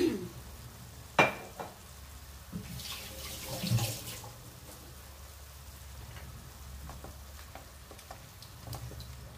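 Water is poured into a pan of pork liver adobo, with a short splash followed by steady bubbling and sizzling in the pan.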